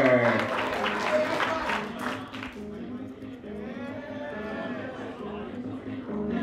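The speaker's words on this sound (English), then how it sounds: "give it up, huge round of applause" An audience applauds at the 2018 VA States yoyo contest after an Open 2A freestyle, a dense clapping wash that is loudest at first under an announcer's voice, then settles into softer sustained clapping.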